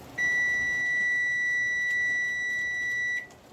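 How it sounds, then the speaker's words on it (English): A kitchen timer beeps while praline syrup cooks on the stove, one steady high electronic tone held for about three seconds over faint room noise, then cut off. "now that the timer has gone off"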